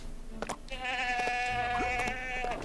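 A goat in LEGO The Hobbit gives a single long, wavering bleat, loud and close, with brief game clicks around it.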